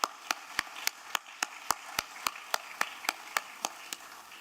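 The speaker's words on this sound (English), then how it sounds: "let's give a round of applause for Disha and her beautiful presence." Steady, evenly spaced claps, around sixteen in a row at a brisk regular rhythm, fairly faint with no voices.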